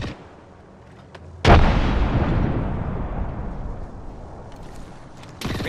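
Grenade blast in the Apex Legends battle royale game: a sudden loud boom whose rumbling tail fades over several seconds, with faint game sounds before it and another hit at the end.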